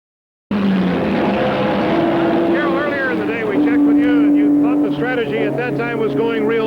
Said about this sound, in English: Gurney in that big 7-liter Mark II Ford prototype